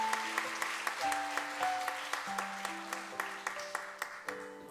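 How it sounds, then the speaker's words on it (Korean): Church congregation clapping to welcome young children about to perform, a short patter of applause with distinct individual claps over a held organ-like tone. "여러분 큰 박수로 맞아주시면 감사하겠습니다"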